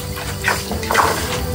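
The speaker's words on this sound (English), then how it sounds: "Draining the tank." Water rushes from a faulty home pressure tank through an opened faucet onto a basement floor; a steady, loud hiss of flowing water with slight surges and no voices.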